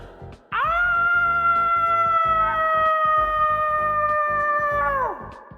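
A person imitating a wolf howl with a single sustained, steady, tonal cry lasting about four and a half seconds, loud and close, rising sharply at the start and tapering off at the end.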